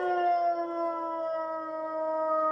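A dog howls in a long, sustained, wavering tone, steady and loud, with piano-like tones ringing underneath.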